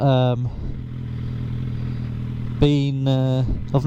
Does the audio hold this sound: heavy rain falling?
no